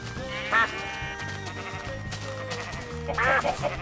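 Duck quacks from the Minecraft Mo' Creatures mod, two short nasal bursts in a row over a steady backdrop of game music and ambient tones, moderately loud.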